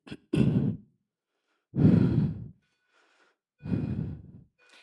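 Heavy breathing during a full-body workout routine: three loud, separate exhales, each a deep rushing breath with short quiet gaps between, close to the microphone.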